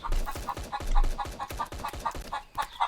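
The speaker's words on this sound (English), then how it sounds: "we are a lot faster than chickens, and they cannot catch up and hit us that well" Chickens in the Roblox game The Butchery cluck in a rapid, steady series of close, loud, repeated squawks over about three seconds, no speech.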